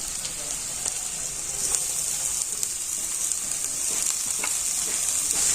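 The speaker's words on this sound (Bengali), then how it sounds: "আর এবারে আমি কেটে রাখা সবজিগুলো দিয়ে দেবো।" Chopped vegetables for momo filling fry in a pan with a steady, close hiss and sizzle, broken by occasional crackles and stirring scrapes, with no talk.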